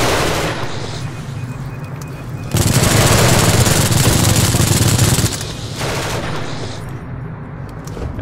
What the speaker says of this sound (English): hopefully the auto turret will take care of them